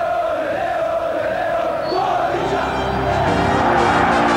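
A huge crowd of about 73,000 excited football spectators roars continuously in a stadium at the Club World Championship final in Brazil, a dense, loud wash of cheering and shouting that swells slightly toward the end.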